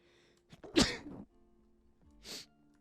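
A single sharp sneeze bursts out close to the mic, followed moments later by a second, softer sneeze-like burst, with no talking over either.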